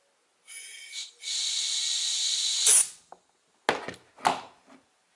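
Pressurized air hisses out from under an autoclave lid after a compressor pumps it to about 2 atmospheres, a steady close hiss lasting roughly two seconds that ends in a short burst, followed by a few brief breathy puffs.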